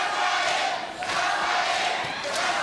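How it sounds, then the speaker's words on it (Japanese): Boxing arena crowd chanting the names of fighters Abe and Kasai, a loud, dense roar of many voices with rhythmic swells that fill the venue throughout. "阿部コールとそして笠井コールが交錯しています"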